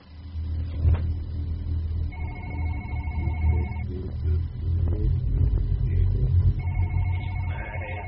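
Telephone ringing in the horror game One Late Night: two bursts of an electronic ring, a few seconds apart, heard over a low engine-like drone and background rumble.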